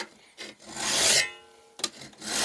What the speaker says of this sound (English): all the file is doing is giving a flat surface to the top of this card scraper